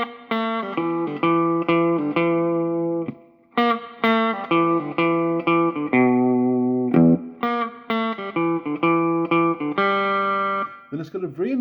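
An electric guitar with an effects unit and distortion plays the Old Bones Blues part B: a rhythmic blues riff of plucked notes and chords, with a sustained passage and a short slide near the end, loud and alone.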